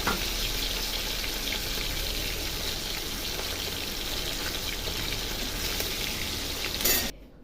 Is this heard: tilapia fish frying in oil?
yes